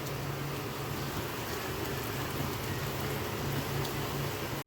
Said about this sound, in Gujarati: હજી પણ આ રીતે ધીરી ધારે એકદમ